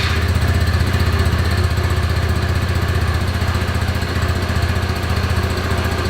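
A Sinnis Hoodlum motorcycle engine idles steadily and loudly up close, a continuous low rhythmic chugging with no pauses and no voices over it.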